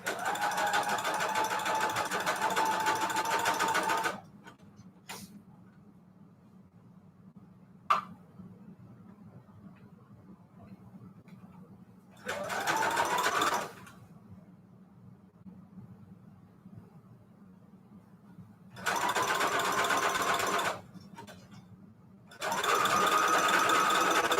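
A sewing machine stitches lace and fabric trim in bursts of fast, steady whirring, each run lasting a few seconds and separated by quiet pauses with an occasional click.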